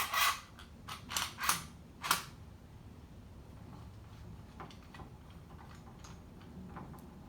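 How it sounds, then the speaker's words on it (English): A woodworking clamp is tightened on a door glue-up, giving four quick ratcheting creaks and clicks close up in the first two seconds, followed by faint low background noise. "put this clamp on first to get it tight against the shoulder"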